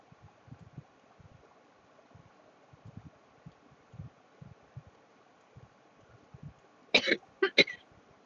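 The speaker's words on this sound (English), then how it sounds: "That was a cough." A sharp cough bursts out twice near the end, close and loud, after a stretch of quiet low thumps and faint room noise during a tabletop role-playing session.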